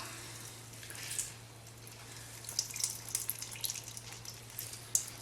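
Liquid squeezed by hand out of a handful of grated pumpkin, heard as soft, sporadic dripping and trickling patters into a bowl over a steady low hum, fairly quiet and close, no talking.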